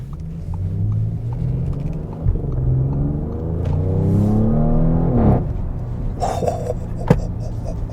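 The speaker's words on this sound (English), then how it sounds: "I like what they've done with the exhaust." A 2023 Audi S7's deep exhaust rumble rises and falls as the engine revs through gears, loud and close, with a brief break before it pulls again.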